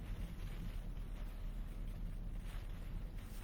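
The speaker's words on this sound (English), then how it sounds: "Dang, that was a 32-mile-an-hour gust." A strong wind gust during a storm chase roars as a constant low rumble and broadband buffeting against the microphone, loud and unbroken throughout.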